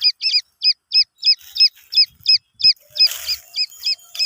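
Grey francolin chicks give a rapid run of high, paired peeping calls at a steady beat, close and fairly loud, with a brief burst of rustling noise partway through.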